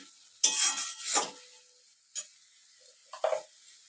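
Turmeric powder being stirred into a cooked-down spice masala in a pan for egg curry: a few quiet, brief scraping strokes spaced apart, with faint sizzle between them.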